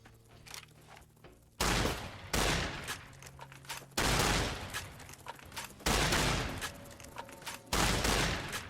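Gunfire in the Fallout: New Vegas game, five loud booming shots spaced roughly two seconds apart, each with a decaying tail, and quieter game sounds between them.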